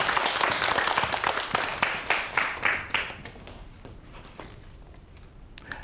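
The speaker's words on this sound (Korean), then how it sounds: "큰 박수로 강연 시작해볼게요." Audience applause opening a science lecture on robots and jobs: a loud burst of clapping from a crowd that fades out over several seconds, with no talking.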